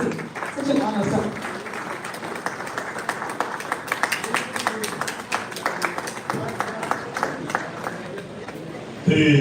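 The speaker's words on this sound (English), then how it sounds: "with a resounding round of applause, help me welcome our distinguished keynote speaker, Dr. Ruben Abati" Audience applause at a Rotary District 9112 public image seminar welcoming the keynote speaker, steady mid-level clapping that carries through the whole stretch, with scattered sharper claps and a louder burst right at the end.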